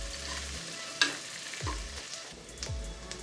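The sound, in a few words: onions sautéing in a pan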